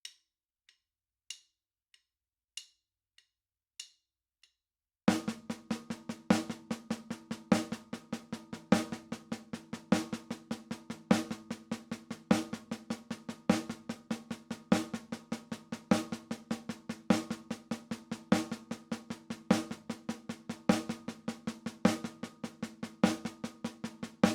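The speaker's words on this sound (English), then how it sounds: "So just on the snare drum, nice and slow, the paradiddle-diddle is going to sound like this." A snare drum played slowly in paradiddle-diddle sticking, with a few faint isolated taps first, then a long run of steady, evenly spaced strokes ringing close and clear.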